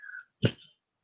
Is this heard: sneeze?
yes